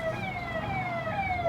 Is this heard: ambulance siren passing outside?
yes